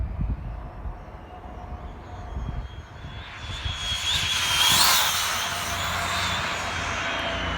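Traxxas Slash RC car on a speed run, an electric motor's whine rising sharply in pitch as it accelerates and passes close by, then settling into a steady high drone, no talk.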